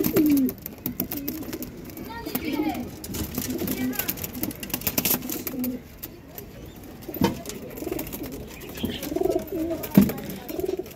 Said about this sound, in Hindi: बाज़ लोग कहते हैं कि ये कबूतर जो है वो जंगली है, लेकिन ये कबूतर है जंगली नहीं